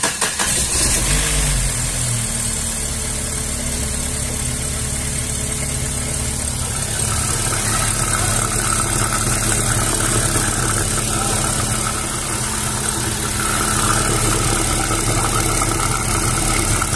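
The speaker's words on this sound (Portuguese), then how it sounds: "Vamos funcionar o carro." A car engine cranks and catches after an internal engine flush, then settles into a steady, smooth idle that runs loud and close throughout, with a brief rev partway through.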